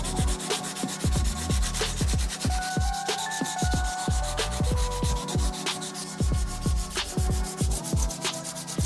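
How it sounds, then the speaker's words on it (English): Hand sanding of carved wood with folded sandpaper, working over basic Celtic designs cut with a Dremel: a steady rhythmic back-and-forth rubbing, close and fairly loud, continuous throughout with no voices. "Just get in there, fold the sandpaper, and just get a nice even sand."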